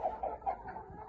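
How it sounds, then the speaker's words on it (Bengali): Village chickens being fed grass give a few soft, quiet clucks in quick succession, close but faint, in a short burst. "বাড়িতে ফিরে দেখি আমার মুরগিগুলো অপেক্ষা করছে।"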